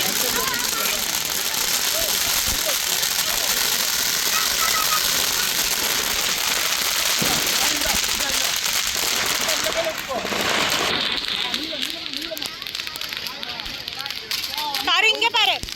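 Firecrackers burst continuously at a Deepavali celebration in Little India, Malaysia, a dense crackling barrage that fills the air. Voices are heard through the noise, which thins briefly near the end before rising again.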